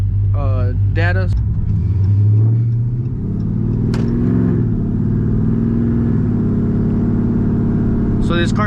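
A Dodge Charger engine hums and rumbles steadily as the car drives along normally, with a brief rev early on and a voice speaking over it near the start and end.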